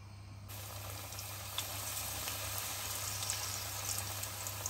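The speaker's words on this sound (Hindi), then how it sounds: "ये जी डीप फ्राई हो रहे हैं" Potato chicken drumsticks deep frying in oil over a low flame give a faint, steady bubbling hiss with tiny crackles and a constant low hum underneath.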